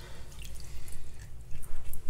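Water splashes and drips steadily close by as filter pads from a Sunsun 704B canister filter are rinsed after a year of use, a continuous wet gurgle with no talk.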